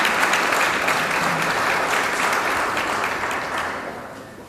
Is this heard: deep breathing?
no